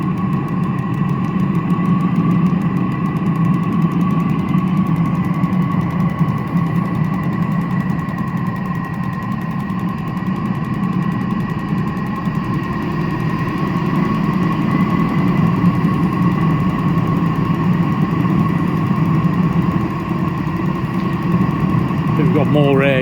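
A Chinese diesel heater on a homebrew controller runs continuously with a steady droning hum and a whirring fan tone, loud and close throughout, with a voice briefly audible.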